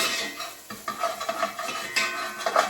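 Bacon cooking in a pot for a shrimp and corn bisque, with a soft crackling sizzle under intermittent scraping and stirring clatter of a utensil against the pot, no talking.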